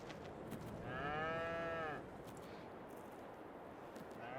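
Cows moo in the video game Farming Simulator 22, one long, clear bellow lasting about a second over a steady background drone.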